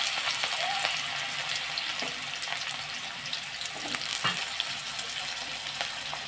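Potatoes drop into a cumin, dried chilli and bay leaf tempering, sizzling in a pan with a steady moderate hiss and occasional light stirring clicks.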